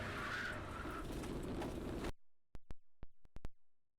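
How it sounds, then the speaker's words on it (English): A C5 Corvette on cold slicks loses grip and spins on a race track, heard as a loud roaring rush of tire and engine noise for about two seconds that cuts abruptly to silence broken by a few sharp clicks. "Once those cold slicks let go, it was coming around and there wasn't a whole lot I could do about it"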